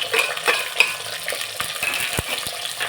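Chopped onion, garlic, tomato and green chilli sautéing in a pan, a lively sizzle broken by repeated scraping stirs and spoon taps against the metal, close-up with no voices.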